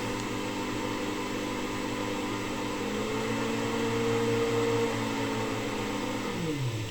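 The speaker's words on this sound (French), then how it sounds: "Le petit ventilateur qui se trouve sur le côté." A small side-mounted auxiliary cooling fan on an Elegoo Centauri Carbon 2 3D printer whirs steadily with a faint tonal whine layered over broadband hiss, close and constant, with a slight pitch shift near the end.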